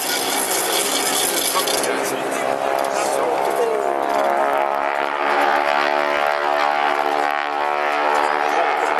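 Propeller aircraft at the Wales National Air Show carrying wing-walkers on top, a continuous loud buzzing engine drone with shifting pitch as the planes maneuver, under an announcer's voice over a public address.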